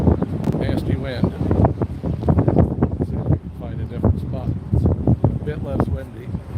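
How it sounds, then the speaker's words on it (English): Strong gusty wind buffets a microphone outdoors at an evening street event, producing continuous low rumbling bursts mixed with people talking nearby throughout. "Nasty wind."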